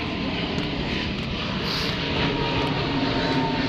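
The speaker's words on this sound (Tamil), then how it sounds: "அங்கே பார்த்தீங்களா மேலே ஃப்ளைட் போயிட்டு இருக்கு" An airplane drones steadily overhead, a continuous rumbling engine roar heard from outdoors while people climb toward St. Thomas Mount church, with no talk over it.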